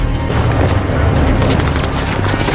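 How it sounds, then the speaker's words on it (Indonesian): Dense, continuous bursts of gunfire and booming impacts crackle loudly in a chaotic exchange, with no clear pauses between shots. "Dan baku tembak pun tak bisa dihindari."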